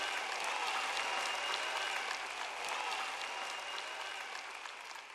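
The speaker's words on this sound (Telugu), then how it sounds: "చప్పట్లు కొడుతూ ఉండండి" An audience at a sermon applauds in a steady, dense wash of clapping that holds strong, then slowly fades toward the end.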